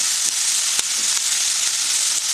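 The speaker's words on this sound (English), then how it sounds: "So I'm just adding my onions, making sure they are well coated" Onions frying in leftover oil with beef marinade juices for osso buco give a steady, close sizzle with a few soft crackles and pops running throughout.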